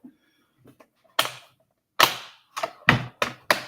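A die cutting machine running, giving sharp clacking thumps in an irregular series, loud and close, with a few faint clicks beforehand.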